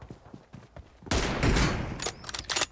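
Sniper gunfire from an M24 bolt-action rifle in a mobile shooter game: one loud sharp blast and its rolling tail, a few quieter clicks and handling noises before it, and faint follow-up sounds after.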